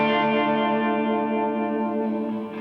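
A musical sample lengthened by a Renaissance Axe plugin and set far back in the mix rings out as a sustained, dense, harmonically rich chord tone with a washed, chorused smear, steady and loud before tapering off.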